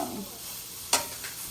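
Four chicken thighs sizzle and fry together in a single pan, a steady soft crackle with one sharper stir or scrape near the end, close and fairly quiet.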